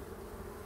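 Honey bees fly around their hive, giving off a faint, steady buzzing drone with no break.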